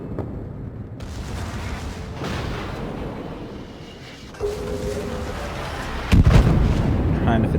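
Großer Kurfürst battleship secondaries fire during a World of Warships naval battle, with repeated booming gunfire over rumbling battle noise that stays loud and dense throughout, and a heavier blast near the end.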